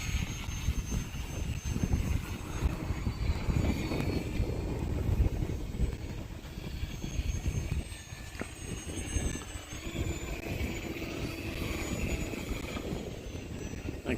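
Fun Cub RC airplane with its 4S electric motor spinning, a steady distant aircraft drone under outdoor wind, holding fairly even throughout.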